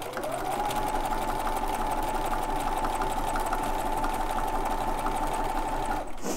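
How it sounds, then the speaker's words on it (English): Sewing machine stitching in the ditch through a quilt-as-you-go quilt block, a steady rapid whirring motor with fast needle clatter, running continuously for about six seconds before stopping, close and alone with no talking. "Now from here, I'm going to stitch in the ditch along that triangle."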